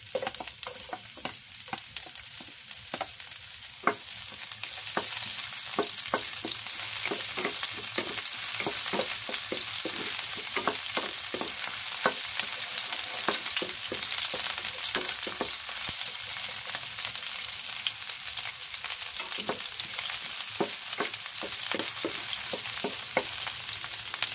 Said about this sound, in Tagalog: So, ilagay na natin yung ating onion.